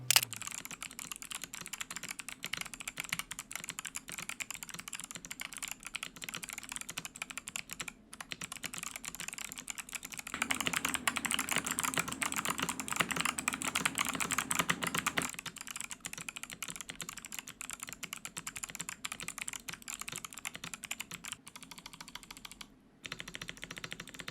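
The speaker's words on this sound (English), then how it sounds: "let's do a typing test, see how it sounds like" Rapid, continuous typing on a budget gaming keyboard, a dense stream of plastic key clicks up close, briefly denser in the middle with a couple of short pauses.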